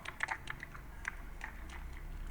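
Rapid, uneven typing on a computer keyboard, close and fairly quiet: a run of crisp key clicks with short pauses, heard alone without any talking.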